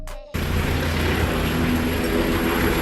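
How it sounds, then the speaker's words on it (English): An ambulance helicopter gives a loud, steady broadband roar that sets in abruptly after a brief quieter start and holds unbroken to the end, with no voices. "A helicopter used to transport patients in emergency situations."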